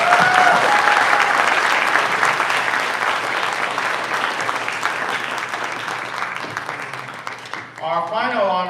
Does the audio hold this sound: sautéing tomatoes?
no